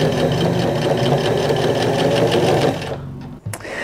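A sewing machine top-stitching a shirt cuff sewn from a bed sheet runs with a fast, steady mechanical whir and rhythmic needle clatter for under three seconds, then stops, followed by a faint click.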